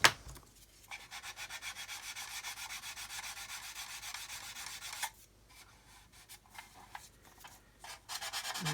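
A coarse sanding stick rubs back and forth on a plastic model kit surface in quick, even strokes up close, followed by slower, scattered scrapes, with no voices.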